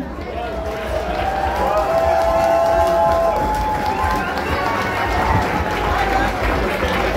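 A crowd at an event cheers and claps, a steady loud roar of voices and applause with some shouting and a whistle-like tone early on, continuing without a break.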